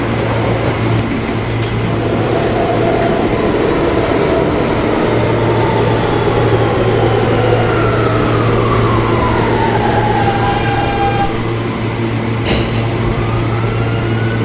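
A G line subway train in a crosstown G line train game runs steadily, a loud constant rumble with a sustained low hum and faint whining tones sliding over it, ending with a brief sharp click.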